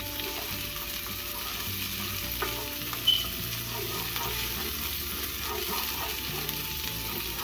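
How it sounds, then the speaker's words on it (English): Onions sizzle steadily in melted butter in a pot, a constant close frying hiss with occasional soft stirring scrapes and one brief sharp tap. "now we're about to go down with some butter in our pot. And then we're going down with our onions"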